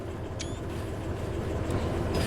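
A train rolls steadily along the track in the railway simulation game Derail Valley, giving a continuous close rumble with faint high squeals and clicks over the top.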